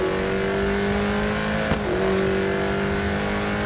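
V8 Supercar racing car in Real Racing 3, engine droning at a steady high pitch, close and loud, with a brief dip and a quick shift near the middle.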